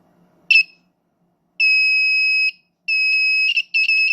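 Small electronic buzzer wired to a drone LiPo battery, sounding in a shrill high-pitched tone: a brief chirp, then a sustained beep of about a second, then several shorter broken beeps, close and loud, with no voices.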